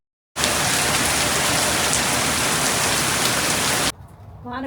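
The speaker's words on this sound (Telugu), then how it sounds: "వాన కొంచెం తగ్గినట్టుందండి," Heavy rain pours down in a loud, close, unbroken roar that starts abruptly, holds steady for about three and a half seconds, then cuts away, and a voice begins speaking just at the end.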